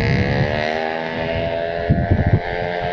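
A motorcycle with a noisy aftermarket exhaust, ridden without a helmet on a city road, drones close by. Its steady, buzzing engine note surges in a few quick revs toward the end.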